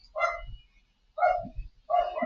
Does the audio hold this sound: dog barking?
yes